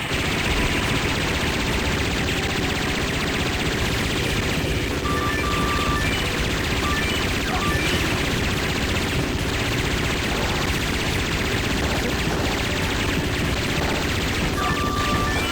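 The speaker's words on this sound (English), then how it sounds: "Heavy machine gun." Heavy machine gun fire from a PlayStation 2 game comes as a dense, continuous roar of rapid shots mixed with crashes and game noise, loud and unbroken throughout.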